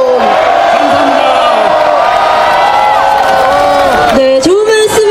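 A large outdoor rally crowd at a general-strike protest against Park Geun-hye shouting and cheering together, a loud sustained roar of many voices with rising whoops and bellowed slogans throughout.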